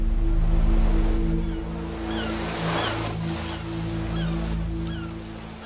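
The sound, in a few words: ocean waves crashing at Dawlish seawall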